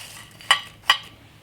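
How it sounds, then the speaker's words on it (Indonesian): A spoon mixes fried garlic into a batch of crunchy garlic peanuts, giving two sharp clinks against the bowl about half a second apart over faint background noise. "Ini goreng bawang putihnya. Saya campurkan"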